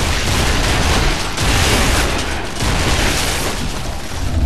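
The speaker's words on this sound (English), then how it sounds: "the boom shot, which is basically a grenade launcher from hell" Boomshot grenade launcher blasts in the Gears of War video game, a loud, dense barrage of explosive booms and rumbling detonations running continuously, with surges of heavy low-end impact every second or so.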